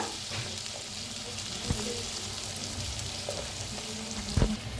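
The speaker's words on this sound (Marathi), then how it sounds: "आता ह्याच्यात टाकायचे हळद" Turmeric and garam masala roasting in a home pan for a spicy Maharashtrian varanphal dal dish, giving a low, steady sizzle with a few faint scrapes and clinks of stirring, no voices.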